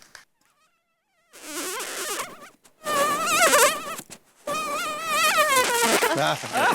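A voice imitates a buzzing mosquito in three bursts of wavering, whining drone separated by short pauses, loud and close, as part of a vintage comedy routine.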